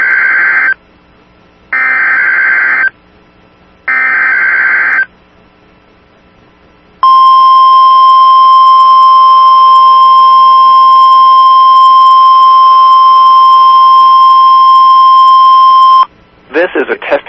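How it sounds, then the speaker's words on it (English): Weather radio public warning alarm test: three short, evenly spaced two-tone beeps, then a long, loud steady high tone that holds for about nine seconds before cutting off into a brief burst of sound. "the warning alarm system will automatically activate weather radio equipped with this tone alert feature"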